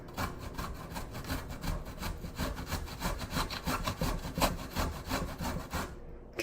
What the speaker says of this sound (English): just go ahead and grate it. Might have to move it around a little bit.